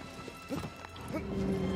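The horse Agro trots and gallops in Shadow of the Colossus with a steady clip-clop of hooves, moderately loud, while someone talks over it.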